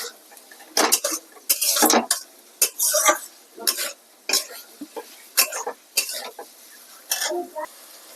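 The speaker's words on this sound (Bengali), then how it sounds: "ডিম দিয়ে দিলাম যা ছিল সব দিয়ে ভালো করে কষিয়ে নিচ্ছি দেখো" Potatoes and eggs are being sautéed with spices in a pan, with a series of loud, close stirring scrapes and utensil clatter in irregular bursts over a faint sizzle.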